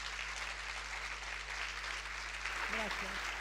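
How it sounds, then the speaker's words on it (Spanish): A conference audience applauding to welcome speakers at an art lecture, steady distant clapping under a low hum, with a short voice breaking in near the end. "queremos pedirles primero presentarlos a Elena Di Stefano y a Heriberto Zorrilla y recibirlos con un fuerte aplauso"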